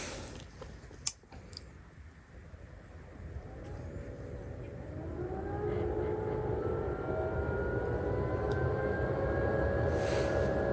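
An electric motor of a wood stove forced exhaust fan, rated 16V and able to reach 7000 rpm at 24V, spins up and settles into a steady whirring hum with a rising tone, close and moderately quiet, after a sharp click.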